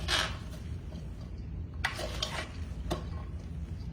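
Two spoons toss and stir coleslaw in a bowl, giving soft wet rustling punctuated by a few sharp scraping clinks, close and moderately loud with no talk.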